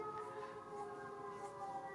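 A faint siren sound effect plays during a game stream, a steady wailing tone with layered pitches that holds for about two seconds with no speech.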